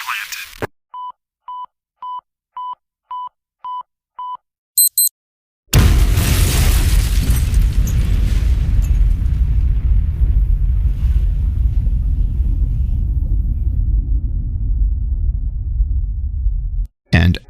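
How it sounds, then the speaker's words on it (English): A row of evenly spaced electronic beeps ticks down like a timer, followed by a sudden loud blast that rolls into a long, deep rumbling boom and fades away as a bomb explosion sound effect. "The bomb has been planted."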